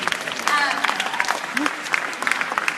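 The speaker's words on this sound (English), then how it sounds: "you all give yourself a round of applause." Audience applause from a crowd gathered at a 9 a.m. talk, a brief burst of clapping mixed with voices and cheering that rises and stays steady.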